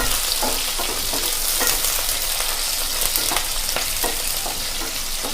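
Shallots and curry leaves sauté in hot oil in a pan for a sundakkai vatha kulambu, giving a steady, close, crackling sizzle with intermittent scraping stir sounds and no voices.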